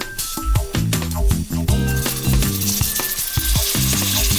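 Chili powder and quartered potatoes hit hot oil in a frying pan for a curry, giving a loud, steady sizzle with bursts of stirring and scraping up close.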